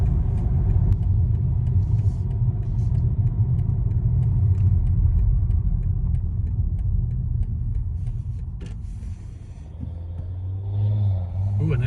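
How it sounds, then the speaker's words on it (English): Audi S4 passing on the road, its engine rasp rising over a steady car-interior rumble as it goes by near the end. "an S4. Listen to the rasp."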